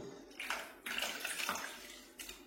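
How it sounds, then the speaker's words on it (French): Water is poured out of a handmade clay vase in short splashing gushes, some broken by brief pauses. The sound is close and fairly soft, with no voices. "il faut enlever l'eau qu'il y a dedans"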